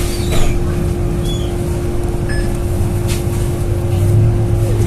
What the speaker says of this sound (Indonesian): Pas banget ya, baru keluar dari gang rumah, tiba-tiba langsung ketemu bus.